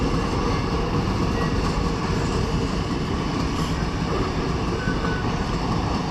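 Iron ore train wagons roll past in Australia's Mid-West, making a loud, continuous rumble with a steady clatter of wheels on rails and no voices.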